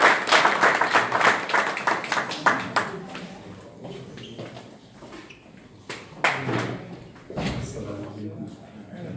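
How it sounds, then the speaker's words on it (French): Applause from a crowd at a French legislative campaign meeting in Paris, bursts of clapping that fade out, then resume, mixed with voices and room noise. "On l'applaudit."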